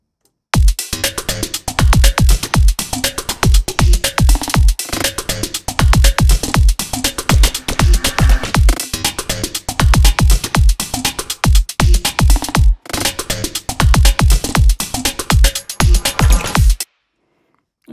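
A basic electronic drum loop plays together with an added percussion layer in Ableton, booming kicks under dense clicking and tapping hits in a steady repeating groove, loud and close, ending abruptly.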